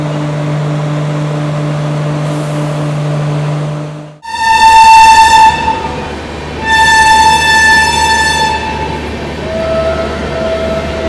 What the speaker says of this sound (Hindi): चलिए फाइनली अपनी ट्रेन लास्ट स्टॉपेज से डिपार्चर हो